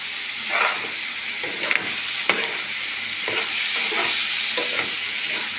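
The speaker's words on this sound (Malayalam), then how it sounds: "ക്യാപ്സിക്കയും തക്കാളിയും നല്ലോണം വാടട്ടെ, നല്ലോണം മിക്സ് ചെയ്ത് കൊടുക്കാം." Capsicum and tomatoes stirred in a frying pan for chicken thoran, a steady close sizzle with repeated scraping strokes of the spoon at an uneven rhythm, no voices.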